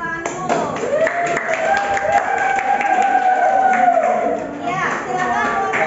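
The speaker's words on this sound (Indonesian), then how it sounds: "Kita beri tepuk tangan dulu." Students in a classroom clap together in a lively burst of applause lasting several seconds, with a sustained voice-like tone over the clapping and chatter around it.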